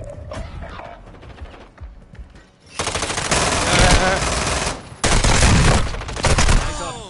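Rapid machine gun fire in a video game, loud and close, coming in two sustained bursts separated by a brief pause and preceded by quieter game sounds.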